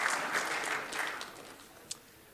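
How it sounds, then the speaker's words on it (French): A conference audience at ENSA Chamonix briefly applauds paragliding pioneer Pierre Jevaux, a short burst of clapping that fades within a second or two, followed by a single sharp knock. "vous pouvez l'applaudir bien fort"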